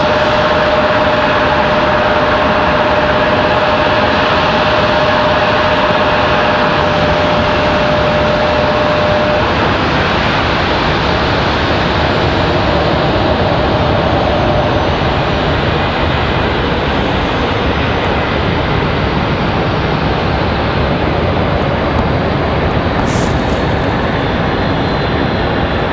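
Heavy jet airliner at Raleigh-Durham International Airport, a loud sustained broadband engine roar that stays steady and continuous throughout, close by with no talk.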